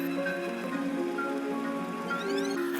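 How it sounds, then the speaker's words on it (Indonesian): Steady rain falls on a surface throughout, a continuous patter layered under a bright tonal musical score with no talking. "Kini kumbang kecil pun pergi melalui derasnya hujan hingga ia menemukan tempat berteduh."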